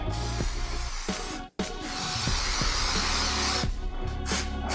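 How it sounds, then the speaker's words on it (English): Hissing bursts of Pam cooking spray onto a waffle iron, one short then a longer sustained spray, over a low hum with a few small clicks. "So we're gonna spray our waffle iron down"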